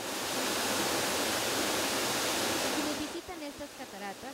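Nauyaca waterfall on the Orucito river crashes into its pool as a loud, steady broadband roar, easing slightly near the end as a faint voice speaks over the water.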